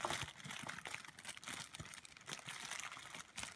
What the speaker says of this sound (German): Ich pack's einfach mal aus.